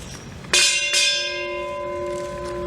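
Ship's bell struck twice at a United States Navy retirement ceremony: two bright, ringing strikes about half a second apart, each tone sustaining and slowly decaying, with no talking over them.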